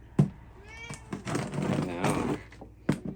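A house cat meows in a few short calls close by, mixed with a person talking and making meowing imitations toward it.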